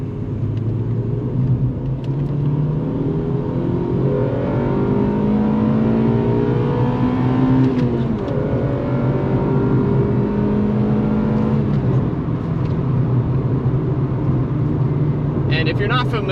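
A 2000 Honda Civic Si, completely unmodified, revving hard as VTEC engages around 5,400 RPM, the engine note sweeping steadily upward in a loud, sustained in-cabin drone with a brief dip midway.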